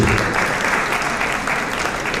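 A crowd at a fashion show applauds an agency, producing a dense, loud, continuous wash of clapping that holds steady throughout.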